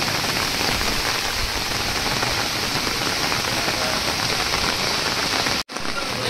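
Steady heavy rain pours down on surfaces during a pilgrims' procession from Dehu to Pandharpur beside the flooded Indrayani river, a dense continuous hiss that cuts out abruptly for an instant near the end.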